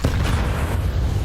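A grenade detonating in a Counter-Strike 2 esports match heard as a loud, continuous low-end boom and rumble filling the whole short moment.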